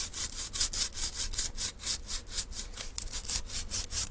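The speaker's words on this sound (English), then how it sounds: "it's again very important to keep the knife perpendicular to the sandpaper" A Morakniv Basic 511 knife has its spine rubbed back and forth on sandpaper, giving a fast, steady run of close, gritty scraping strokes about four per second, with no talking.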